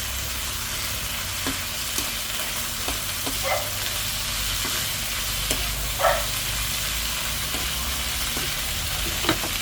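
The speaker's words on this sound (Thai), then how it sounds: "มีพริกแดงพริกขี้หนู สวยแล้วก็พริกแดงจินดาค่ะ ใส่ลงไปผัดนะคะ" Red chilies, bird's eye chilies and lemongrass stir-fry in a hot pan with a steady, continuous sizzle, and occasional scraping taps of a spatula stir through it up close.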